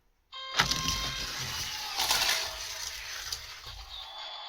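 A 1:64 scale diecast black Lotus Esprit rolls down a race track, giving a continuous close rattling roll with a few brief clicks and knocks from the track joints, lasting about four seconds.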